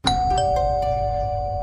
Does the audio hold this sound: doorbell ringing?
yes